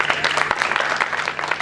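Dense crowd applause at a poetry recital, continuous clapping across the whole stretch, steady and fairly loud, with a faint low hum underneath.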